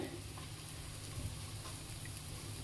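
Onions and turmeric fry in a pan for an egg tomato stew, giving a soft, steady sizzle with faint stirring over a low background hum, with no voices.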